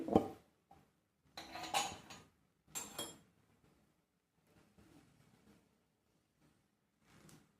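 Spoon scraping and clinking against a metal pot while stirring salt and ghee into a sweet halwa mixture at home, in several short bursts of scraping with quiet pauses between, close and fairly loud, no talking.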